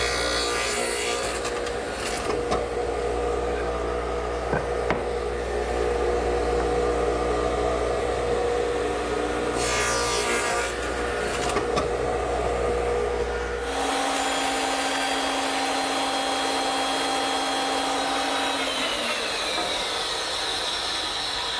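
A radial arm saw runs with a loud steady motor drone, making tenon side cuts in wood, with blade cutting bursts in the first half before the tone shifts to a quieter spinning-down whine.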